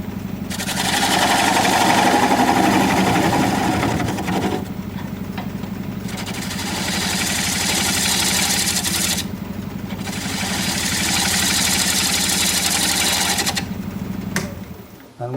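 Wood lathe spinning a winged bowl blank at about 700 rpm, a steady mid-pitched motor hum that rises, dips twice into quieter spells, and returns, loud and close with no talk.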